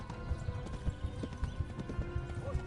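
A horse gallops in the medieval video game Kingdom Come: Deliverance, a quick steady drumming of hoofbeats up close at moderate level, carrying on without a break.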